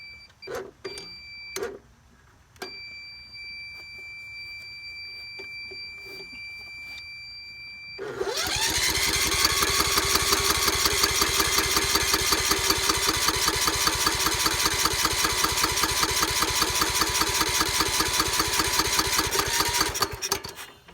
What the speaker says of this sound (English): Let's start up the engine again.